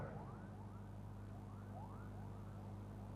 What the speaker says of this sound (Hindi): ये सायरन किसके लिए बज रहे हैं?